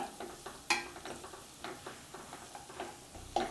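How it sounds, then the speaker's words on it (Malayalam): Onion and green chilli sautéing in a pan as egg bhurji gets started, with scattered stirring scrapes and taps over a soft, steady sizzle, close and fairly quiet, with no voices. "സവാള ചെറുതായിട്ടൊന്ന് വഴണ്ടിട്ട് വരുമ്പോഴത്തേക്കും നമുക്കിതിലേക്ക് പച്ചമുളക് ചേർത്ത് കൊടുക്കാം"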